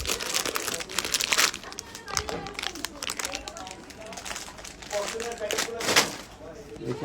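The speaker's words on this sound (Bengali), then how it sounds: "কার্টুন ফয়েল মনে হয়, তাই না? ফয়েল প্যাকেট বানাবেন।" Foil packaging is crumpled and crinkled in loud, irregular crackling bursts, with people talking over it in a flat where the packets are made.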